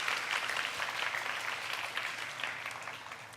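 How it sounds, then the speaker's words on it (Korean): A church congregation at a young adults' worship service claps together in a dense, continuous round of applause, heard at moderate volume with no pauses. "우리 주님께 영광의 박수 올려드리겠습니다."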